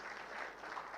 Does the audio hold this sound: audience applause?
yes